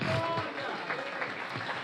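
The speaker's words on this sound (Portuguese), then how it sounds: "palmas que glorificam a Jesus" A congregation at a late-night Pentecostal church service claps in praise, a soft, steady patter of hands with a voice briefly audible at the start.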